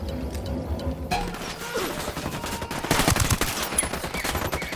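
Automatic and rapid gunfire in the video game Ghost Recon Wildlands, starting with a single shot and breaking into dense bursts of loud, close shots that keep going without pause.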